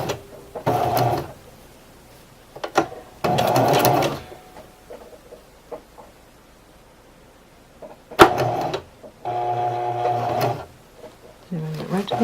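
A domestic sewing machine tacks down ribbon on a garment bag in several short bursts of rapid mechanical stitching, each lasting about a second, separated by quiet pauses and small handling clicks, close and clear.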